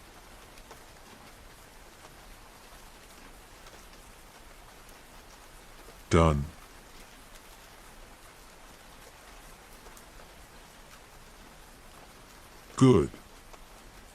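A soft, steady hiss of falling rain fills the background, low and even throughout, while a voice speaks briefly twice over it.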